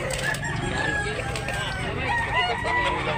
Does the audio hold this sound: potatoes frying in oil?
no